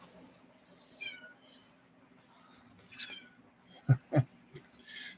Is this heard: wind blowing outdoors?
no